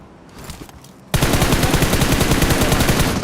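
Sustained automatic gunfire from a squad-based shooter video game, a dense rapid burst starting abruptly about a third of the way in and continuing loud and close to the end, with quieter game ambience before it.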